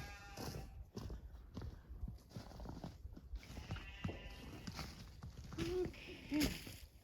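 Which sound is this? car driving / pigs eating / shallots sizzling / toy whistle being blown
pigs eating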